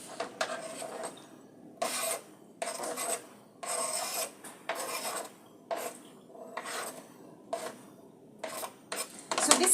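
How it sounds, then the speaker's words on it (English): Celery being cut with a knife on a board, a steady run of crisp, crunchy chops, about a dozen separate strokes at an even pace, close and clear. "So this is how I cut my celery."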